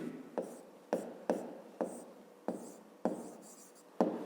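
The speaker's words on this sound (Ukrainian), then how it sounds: "Пишемо тоді." Pen strokes writing numbers for a fifth-grade maths exercise, a scratchy rhythm with sharp taps roughly every half second, close and fairly quiet.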